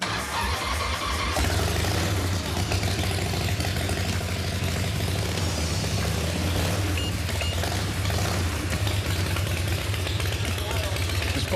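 A custom chopper motorcycle engine fires up and settles into a loud, rumbling idle with uneven revs, close and continuous, while people talk over it.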